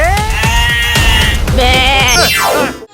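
A goat bleats loudly and close, several wavering cries in quick succession, alone.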